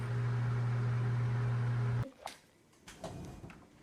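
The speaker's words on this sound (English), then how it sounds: "I'll put you in the microwave." A microwave oven runs with a loud steady electric hum, then cuts off abruptly halfway, followed by a few faint clicks and knocks like its door or a cupboard.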